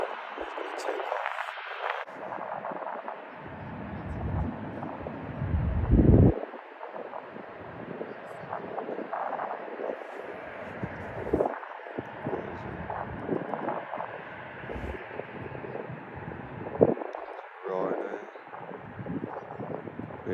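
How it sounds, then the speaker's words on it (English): A Jet2 airliner takes off at East Midlands Airport in windy conditions, a broad, distant engine roar that stays steady throughout, broken by gusts of wind buffeting the microphone, with people talking faintly. "So this is Jet 2. He's going to take off."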